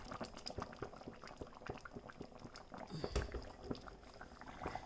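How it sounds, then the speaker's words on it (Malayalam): Seer fish head curry boils in a pot, with dense irregular bubbling and popping close by, steady and fairly faint, with no voices. "അപ്പോൾ നമ്മുടെ മീൻ കറിയിൽ എണ്ണയൊക്കെ നല്ല തെളിഞ്ഞ് വന്നിട്ടുണ്ട്. തിളയ്ക്കുന്നുണ്ട്."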